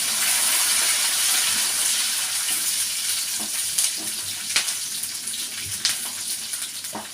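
Curry leaves, ginger, garlic and green chillies fry in oil for pickle, a steady hiss of sizzling broken by a few sharp clicks and scrapes as the mixture is stirred.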